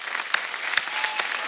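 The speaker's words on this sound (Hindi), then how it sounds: "आप सबकी जोरदार तालियों के बीच में स्वागत करना चाहूंगा" A studio audience on a TV comedy show claps loudly to welcome a guest, a brief burst of dense applause with a few sharp individual claps standing out.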